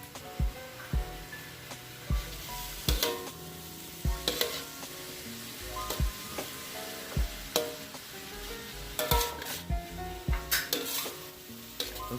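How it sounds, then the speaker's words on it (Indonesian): Papaya filling with dried shrimp for pempek pistel is stirred in a pan, with a soft sizzle beneath repeated scraping and tapping of a utensil against the pan. "Setelah bumbu-bumbunya dan bahan-bahannya tercampur, aduk lagi sampai rata."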